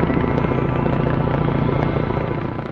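A rescue helicopter arrives after a snowstorm, its rotor giving a loud, continuous rapid thumping that fills the whole stretch and eases slightly toward the end.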